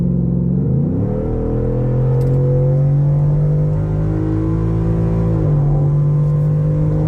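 Steady loud car engine drone while driving, holding a revved pitch that dips briefly and then climbs again as the car coasts on, close and continuous with no talk.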